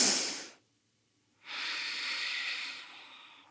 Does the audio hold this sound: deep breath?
yes